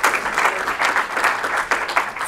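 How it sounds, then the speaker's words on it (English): A crowd applauds a team at a London gathering, dense sustained clapping filling the room at close, even loudness with slight swells. "can we give a round of applause to this team for putting this together?"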